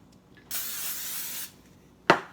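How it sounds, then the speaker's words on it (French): A single steady spray of olive oil cooking spray lasting about a second lands on smashed potatoes, followed moments later by a short sharp click or tap, with no talk. "je vais venir mettre un petit peu de palme à l'huile d'olive dessus"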